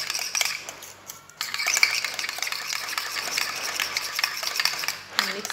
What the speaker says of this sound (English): We mix the coconut oil and the Vaseline together